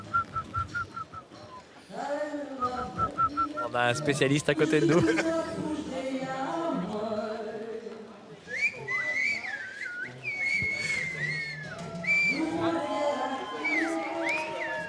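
Silbo Gomero, the whistled language of La Gomera, sounds as sharp, rising and falling whistles at the Cannes red-carpet event, mixed with crowd noise and someone talking over them.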